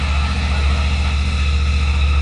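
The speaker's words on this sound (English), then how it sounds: "I've got to pull in the clutch and press the starter button" A motorcycle engine idles steadily, a loud, continuous low rumble held close and unchanging without any voices over it.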